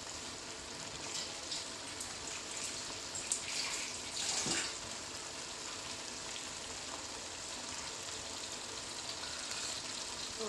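Water from a chicken marinade is poured into a pan of chicken curry, making a continuous hissing, splashing wash with a brief louder gush partway through and no talk.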